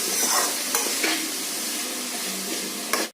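Onions and chili sautéing in a pan, a continuous dense sizzle with a few sharp stirring scrapes and spoon knocks, close and fairly loud before cutting off abruptly at the end.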